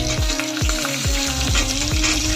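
Tomato, garlic, onion, chillies and radish roasting together in a pan over a low flame, a steady close sizzle with repeated swooshing sweeps running through it.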